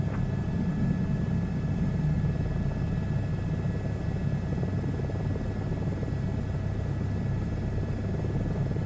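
A helicopter flies in a flight simulator game, a steady loud rotor and engine drone with low rumble that stays constant and close throughout, with no talking.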